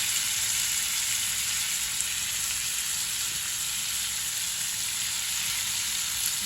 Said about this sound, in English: I'm gonna just add just a little bit of butter on in here. Let that melt through,